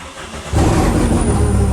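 A supercharged car with a very loud exhaust starts up: a quiet idle-free moment, then the engine catches abruptly and settles into a loud, rough, rumbling run with a thin high whine riding above it.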